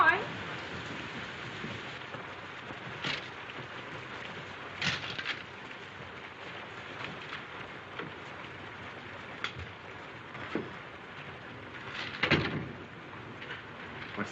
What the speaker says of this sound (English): It's this rain, I guess.